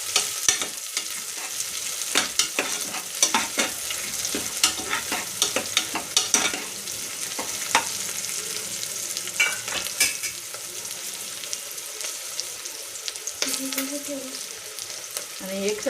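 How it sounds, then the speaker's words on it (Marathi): Chillies and whole spices fry with browned onions in a home kitchen pan for matar pulao, a steady broadband sizzle with repeated scraping stirs throughout, fairly close, no talking. "कांदे थोडेसे लालसर झालेले आहे, त्यामध्ये मिरची टाकून घेऊया आणि त्याच्यामध्ये खडे मसाले पण टाकून घेऊया आणि मिक्स करून घेऊया।"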